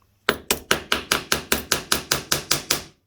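A dozen sharp metallic taps struck at a steady, even rhythm, a tool used as a hammer while removing carburetors from a Honda CB750 K2, close by with no talking.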